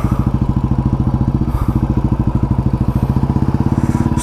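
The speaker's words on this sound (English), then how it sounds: "let's get this bike started." A Royal Enfield motorcycle engine runs at a steady idle close by, with a loud, even single-cylinder thump repeating quickly and a short mechanical clatter partway through. There is no talking.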